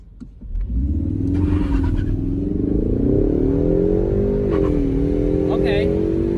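A Ford Mustang EcoBoost in track mode accelerates hard, its engine note climbing steadily and dipping once at a rough gear shift, loud and close from inside the cabin. Voices chatter over the engine at points.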